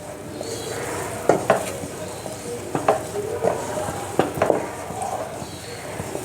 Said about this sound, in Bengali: এটাকে এবারে অনবরত একটু নাড়াচাড়া করতে হবে, নালে নিচে লেগে যাবে